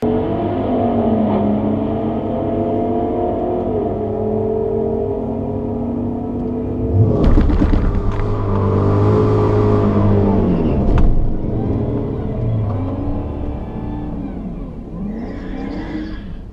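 A Dodge Challenger R/T fitted with long-tube headers drag races a Dodge Demon. Engines idle and burble nearby with rising revs, then two loud bursts of hard acceleration roar past and fade.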